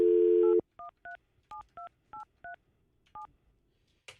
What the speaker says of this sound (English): I'll pick up the phone. Try to call him here.